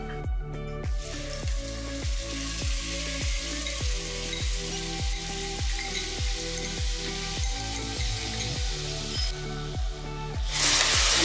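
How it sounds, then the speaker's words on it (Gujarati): Onions with asafoetida and turmeric fry in hot oil, a continuous close hissing sizzle over a regular low thumping pulse, swelling louder in the last moment. "ત્યારબાદ આપણે તેમાં 1 ચમચી હળદર નાખી અને કાંદા નાખી દઈશું."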